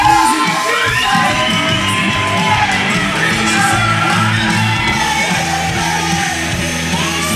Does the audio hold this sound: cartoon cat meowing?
no